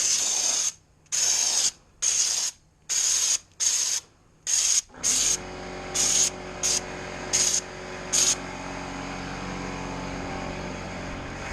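Spray gun blasting Raptor bed-liner texture coating onto interior trim pieces such as A-pillars, in about nine sharp hissing bursts of roughly half a second each, loud and close, followed by a steady compressor-like hiss.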